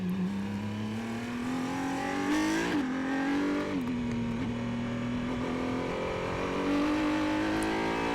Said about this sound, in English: That front right locks up again going into the first corner of lap 16.